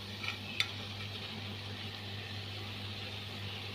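Paneer for bhurji goes into a pan and is stirred, giving a soft, steady sizzle with a faint scrape or two near the start, quiet and close.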